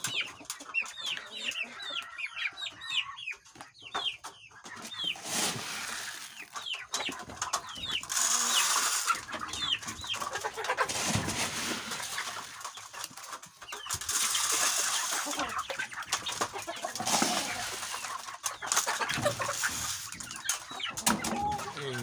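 Dekalb Brown hens cluck and call repeatedly at close range in a busy coop, with overlapping chicken voices and occasional louder squawks, and a little wing flutter.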